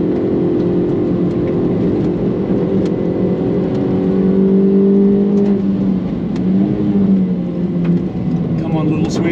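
A Suzuki Swift races on track against a Peugeot 206, its engine a loud, steady in-car drone that holds and shifts pitch slightly under continuous close speech.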